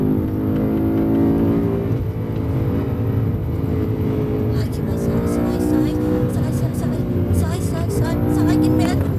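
A car at speed on the Nordschleife, its engine droning steadily close by and rising as it pulls past another car, with speech going on over it throughout.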